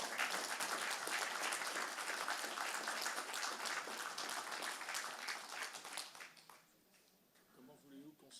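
Sustained applause fills an award ceremony hall as the audience claps for the prize winners, a steady dense wash of hands that fades out after about six seconds, leaving quiet voices.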